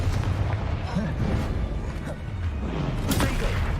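A Confringo fire spell bursting during Hogwarts Legacy combat, a booming blast with a whooshing rush layered over game music and battle noise, while a player speaks over the action.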